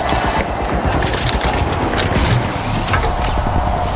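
Rapid gunfire rattles continuously in the video game The Finals, dense overlapping shots with crashes and mechanical clatter, loud and without pause across the whole stretch.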